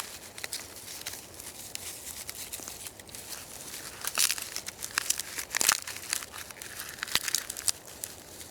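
Dry, fluffy bushcraft tinder is folded and crumpled into a bird's nest by hand, making close crackling and crinkling rustles in uneven bursts that grow louder midway, with no talk.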